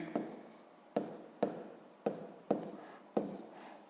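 A pen writes an answer for a sixth-grade math exercise in six short, distinct strokes tapping and scratching on paper, close and quiet.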